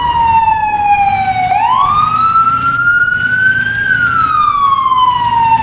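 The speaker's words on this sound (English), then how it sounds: "Crank the lights on, get the siren going." A wailing emergency-vehicle siren from the EmergeNYC game rises and falls in slow sweeps, loud and upfront over a low engine and traffic rumble in heavy traffic.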